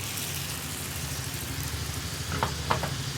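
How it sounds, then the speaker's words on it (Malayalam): Papaya payasam with coconut pieces and raisins is stirred in a pot, a steady close bubbling hiss with a few soft spoon scrapes toward the end. "നമ്മുടെ പായസത്തിലേക്ക് നമുക്ക് തേങ്ങാക്കൊത്തും റൈസിൻസും എല്ലാം ചേർത്ത് ഒന്ന് ഇളക്കി മിക്സ് ചെയ്തെടുക്കാം"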